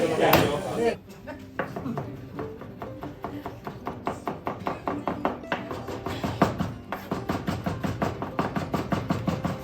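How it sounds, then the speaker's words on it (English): A chef at a cooking class in Florence prepares garlic with a knife on a board, and the blade gives a steady run of rhythmic chopping taps, close and moderately loud, after a brief opening burst of busier kitchen noise. "Here he's preparing the garlic and soon the artichokes."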